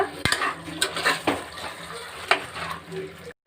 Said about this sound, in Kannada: ಮಿಕ್ಸ್ ಮಾಡಬೇಕು ಎಲ್ಲವನ್ನು ಕೂಡ.